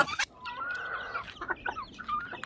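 Kabir chicken, a heavy backyard breed, clucking in short repeated calls, with a longer sustained cackle in the middle, fairly close and alone.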